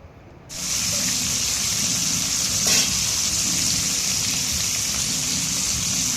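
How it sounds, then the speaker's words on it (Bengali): Shol fish starts lightly frying in hot oil with a sudden hiss that settles into a loud, steady sizzle and crackle, close by and continuous for several seconds. "শোল মাছটা হালকা ভাজা দিয়ে নেব"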